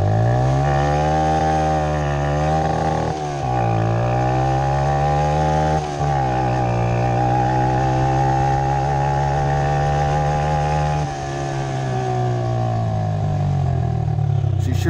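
A brushless electric RC truck, an Emaxx, screams at a steady high pitch, its motor held against the rev limiter with brief dips and shifts in tone; the sound is loud, close and continuous, with no talking.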